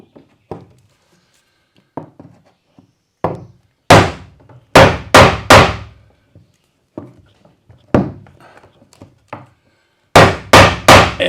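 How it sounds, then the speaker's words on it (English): A hammer striking a chisel into pine boards in a tiny house, with scattered single knocks building into loud, ringing clusters of two to three blows, then a final rapid burst. "So just use my chisel."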